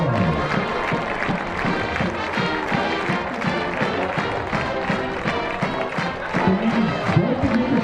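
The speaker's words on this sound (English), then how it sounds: "big round of applause" A stadium crowd at a high school football game between College Station and Cedar Park applauds and cheers to honor the band seniors, a dense, continuous wash of clapping that keeps going.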